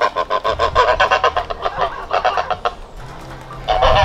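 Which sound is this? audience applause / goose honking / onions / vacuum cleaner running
goose honking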